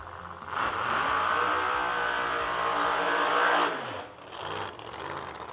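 Drag racing cars at the Yellow Bullet Nationals roar loud and close in a sustained high-revving run, then the engine note drops away and a second, briefer burst of revving follows.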